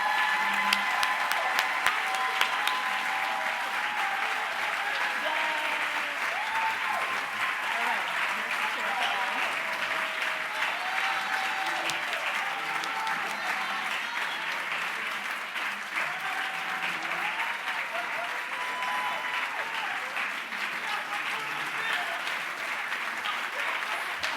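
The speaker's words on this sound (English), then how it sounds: "Please give a warm round of applause and help me welcome LaFaith, Tyler, Elijah, and Makai." Gala audience at a Boston youth benefit claps steadily and warmly for over twenty seconds, a dense, even wash of applause with occasional whoops and faint voices mixed in.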